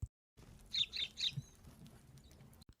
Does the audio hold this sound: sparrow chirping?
yes